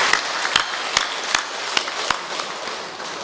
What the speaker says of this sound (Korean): 크게 박수 한번 쳐주시면 고맙겠습니다